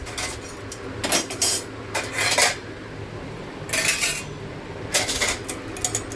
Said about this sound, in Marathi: संध्याकाळीच घासून घेते सगळे भांडे रोज